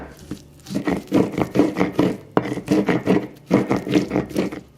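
Fresh nixtamalized corn being ground by hand into soft masa for tortillas, a close, rhythmic rasping scrape repeating in steady strokes with a brief pause midway, no voices.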